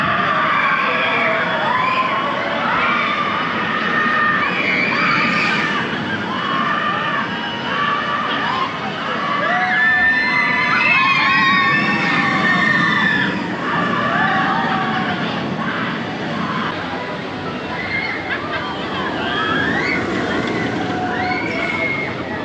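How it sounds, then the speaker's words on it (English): Riders on the Minifigure Speedway family boomerang roller coaster at Legoland Windsor shout and cheer over a continuous rushing roar, with children's voices rising and falling throughout the ride. "that is a really impressive family boomerang coaster"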